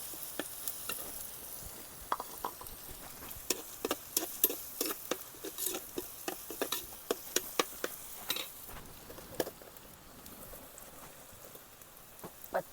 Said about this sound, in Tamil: இப்போ நல்லா ஸ்டிர் பண்ணணும்